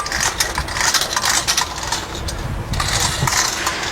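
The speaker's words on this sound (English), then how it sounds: "let the reel spring wind up my hose for me" A spring-driven hose reel winds a garden hose back in, giving a continuous close rattling, clattering whir with no speech.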